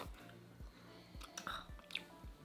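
Close, quiet chewing while tasting a spoonful of bolognese, with soft rhythmic mouth sounds repeating about every half second and faint wet smacks.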